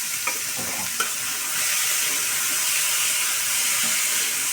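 Carrots, green beans, prawns, green chillies, garlic and onion for a vegetable roll filling are stirred and fried in a pan, giving a steady close sizzle with a couple of sharp scrapes of the spoon near the start.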